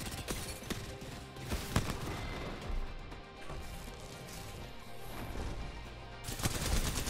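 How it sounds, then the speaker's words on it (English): Gunshots in a fast-paced squad-based shooter video game, a dense stream of rapid gunfire and impacts heard fairly faintly and continuously throughout. "sound of gunshots, giving you more motivation to move fast and eliminate other squads faster"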